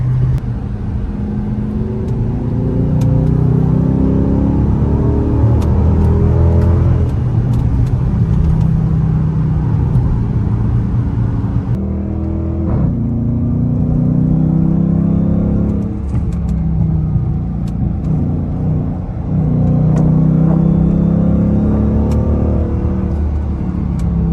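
A Dodge Charger R/T driving on the road around Los Angeles, with a steady loud engine rumble and tire noise heard from inside the car that swells and eases through corners, with no talking.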